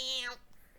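A person imitates an angry cat with their voice, giving one short, loud, strained yowl that breaks off after about a third of a second into quieter noise.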